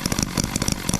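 H 75 engine driving a generator at a low idle of about 1450 RPM, a steady rapid chugging pulse, loud and close with no voices.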